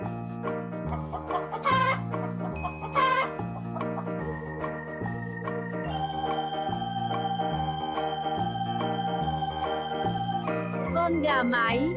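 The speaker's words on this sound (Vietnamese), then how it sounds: "Con gà mái." A hen clucks in short repeated bursts over a steady, rhythmic musical backing with a looping beat, the calls standing out near and clear early on before the tune carries on.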